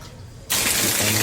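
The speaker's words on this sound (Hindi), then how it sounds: "पानी शुरू हो गया।" A bathroom tap is turned on and water gushes out suddenly, a loud steady rush that keeps running close by after a brief quiet hum.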